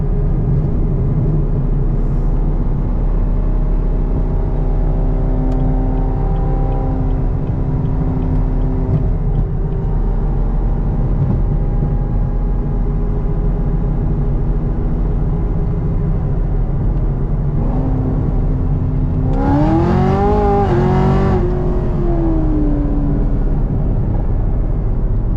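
A 900+ horsepower Chevrolet Camaro ZL1 pulls hard in fourth gear from inside the cabin, a loud, sustained engine drone whose pitch climbs steadily, followed by a brief rising whine and surge near the end.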